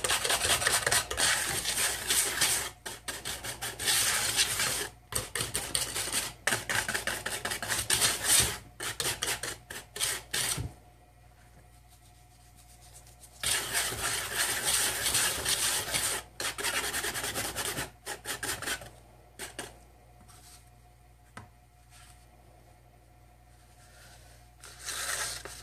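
Dry bath bomb ingredients are mixed by hand for round bath bombs, giving a close, gritty rubbing and rasping that comes in bursts with short pauses and a few quieter stretches.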